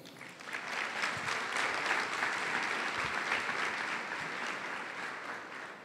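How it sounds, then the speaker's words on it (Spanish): A church congregation in San José, Costa Rica, applauding: a dense, even burst of many hands clapping that swells quickly and holds for several seconds, close and loud, with no talk over it. "les damos un aplauso a todos."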